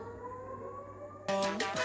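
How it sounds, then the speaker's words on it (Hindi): A siren marking the end of sehri during Ramadan, a steady sustained tone heard from a distance that is abruptly joined by louder, closer sounds near the end. "तुम लोग आवाज सुनो सायरन की भाई"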